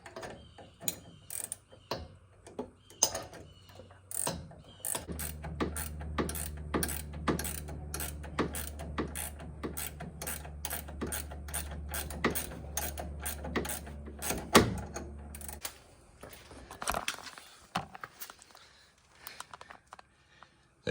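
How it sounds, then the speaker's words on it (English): A 3/4 ratchet clicks in rapid, steady runs while tightening front shock absorber bolts on a third-generation Ram 2500 pickup, loud and close, the pawl ratcheting dense and continuous through the middle, with a few separate clicks before and after. "Use the 3/4 ratchet"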